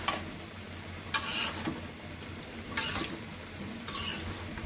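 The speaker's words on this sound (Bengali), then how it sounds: "আর এদিকে তরকারিটা কষানো হচ্ছে" A curry being sautéed in a pan, with a steady low sizzle and three loud bursts of stirring and scraping spaced roughly a second and a half apart.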